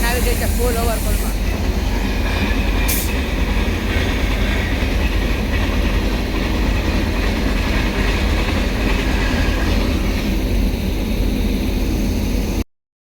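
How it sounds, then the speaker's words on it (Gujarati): A packed, overcrowded passenger train rumbles past close by, a loud continuous roar of wheels and carriages with a brief hiss early on, fading abruptly at the end. "ટ્રેન આવી ગઈ છે ફૂલ ઓવરફોલમાં"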